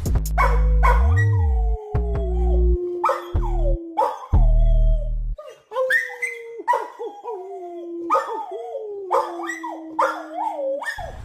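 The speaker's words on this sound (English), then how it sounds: "When you howl, Chester will howl, and he can't help himself." A dog howls repeatedly in long wavering, rising-and-falling cries, loud and close, with gaps between howls and a deeper drone in the first half.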